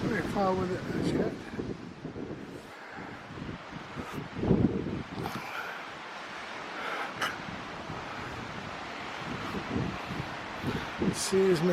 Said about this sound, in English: The sea is making quite a bit of noise today. It's quite windy, I suppose.